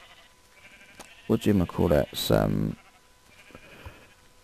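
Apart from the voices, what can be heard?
sheep bleating in a video game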